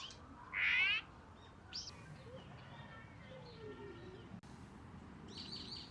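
Birds calling along a quiet cherry blossom path in spring, a few short bright chirps and tweets, one louder call near the start and faint ones later, over a soft outdoor background hiss.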